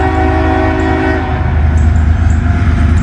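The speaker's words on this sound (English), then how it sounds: "See what kind of train we got here. Oh, we got a CSX." A CSX freight train rolls past close by, its horn blaring loud and continuous over the heavy rumble of the locomotive and rail cars.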